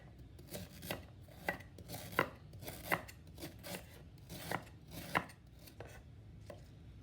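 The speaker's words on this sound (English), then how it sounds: "I'm gonna cut up everything and put it in my NutriBullet" A knife chops vegetables on a cutting board as ingredients are prepared for a green juice. The cuts are close, crisp and irregular, roughly a dozen sharp strikes with short pauses, and no one speaks.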